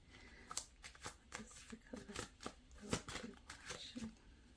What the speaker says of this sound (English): I always shuffle before these videos, but I like to shuffle during too